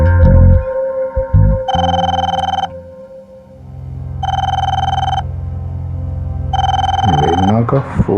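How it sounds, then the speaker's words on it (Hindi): An electronic telephone rings three times in an indoor drama scene, each bright tonal burst lasting about a second with even gaps between, loud and close, with brief voices and thumps around the rings. "लेना का फोन इस वक्त?"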